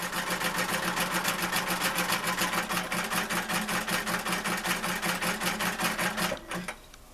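A sewing machine stitches the sides of a small artisanal basket in one continuous, evenly pulsing run that slows and stops near the end, close and steady.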